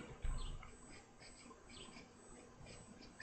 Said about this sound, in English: if you're hearing like all the birds outside and everything, that's why